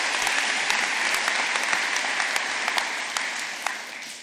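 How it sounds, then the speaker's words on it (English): Audience at a county commissioner swearing-in ceremony applauds in a steady, dense round of clapping that holds evenly and tapers slightly near the end, with no talking. "Please give them a round of applause."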